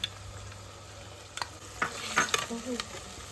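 A spice mix of chilli powder, turmeric and salt is poured into a hot pan, setting off a soft sizzle with a few sharp crackles and spatters near the end over a quiet background hiss.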